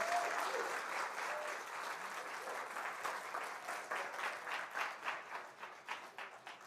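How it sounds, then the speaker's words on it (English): Audience applause at an elementary school awards ceremony at a Baptist academy, a steady crowd of clapping hands that runs throughout and thins toward the end into more distinct individual claps. "if you'd give him a round of applause"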